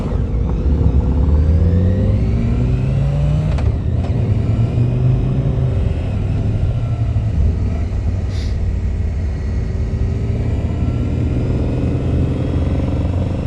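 Harley-Davidson motorcycle engine rumbling steadily while being ridden, a loud, close, continuous low drone with wind noise and shifting pitch as it accelerates, no talking.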